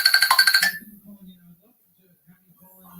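A mobile phone ringtone chirps out a rapid, bright run of repeated electronic tones, loud and close, then stops abruptly, leaving low murmuring and near silence.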